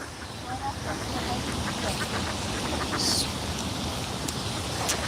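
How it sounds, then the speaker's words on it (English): A flock of ducks on the water quacks repeatedly at a distance, a steady chorus of calls under wind and outdoor noise. "got a lot of ducks here"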